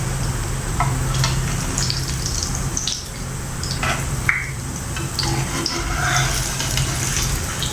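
A potato evening snack fries in hot oil in a pan, a continuous sizzle with occasional sharper crackles and a few clinks of a utensil stirring, close and steady throughout.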